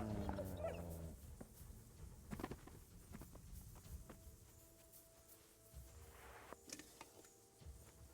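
A dog in the medieval game Kingdom Come Deliverance whimpers and gives a few faint yips amid footsteps and rustling, quiet and fairly distant, with no talking.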